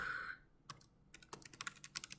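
A command is typed on a computer keyboard connected to a Raspberry Pi: a few isolated clicks, then a quick burst of close, crisp keystrokes in an uneven rhythm, with a brief tone fading out at the start.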